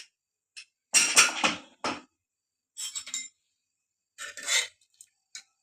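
A pressure cooker lid is opened after cooking chana dal, giving several bursts of metallic clinks and pot clatter separated by short silences, close by with no voices.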